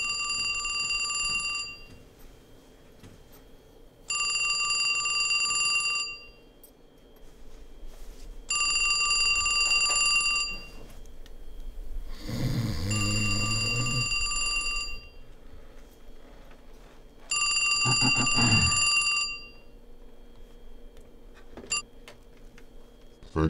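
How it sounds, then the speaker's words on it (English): A telephone in a basement setting in the game Two Worlds II rings in four evenly spaced bursts of bright bell trilling, loud and near. Short noisy sounds fall between the rings, with no talk. "Phone's ringing."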